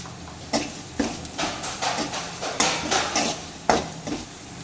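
A spoon stirs pepper kuzhambu with added salt in a pot, giving repeated scraping and clinking strokes in a steady rhythm over a faint sizzle, close and moderately loud, with no voices.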